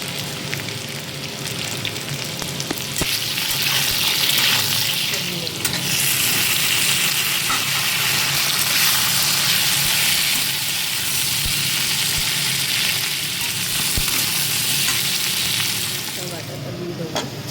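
Lentil fritters fry in a pan of hot oil with a steady, dense sizzle that runs unbroken throughout, close and fairly loud, joined by occasional stirring scrapes.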